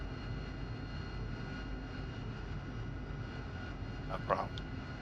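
In a flight simulator game, a Harrier jet engine holds a faint, steady aircraft drone throughout, with a brief sharper sound near the end.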